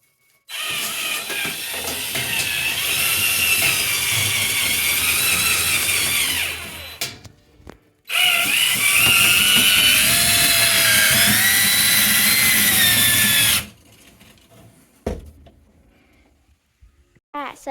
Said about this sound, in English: then I'll hook the drill up and keep adding these as we go